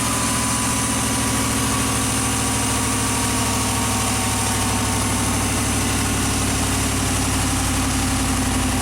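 A classic Chevy engine idles steadily while warming up, a loud, continuous low rumble with an even pulsing throb and no break.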